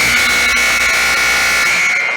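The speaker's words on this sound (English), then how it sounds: "Loud buzzer." A loud, steady electronic scoreboard buzzer sounds at the end of a junior varsity high school wrestling match between Reynolds and Brookville, holding a continuous tone for about two seconds in a gym.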